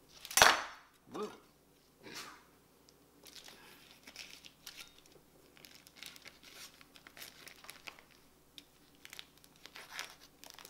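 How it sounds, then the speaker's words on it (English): A plastic package holding a pork butt for Texas-style smoked pulled pork is sliced open, with a loud crinkle and tear up front, a few more crackles, then quieter rustling and handling noises. "I'm just going to cut the package open like this."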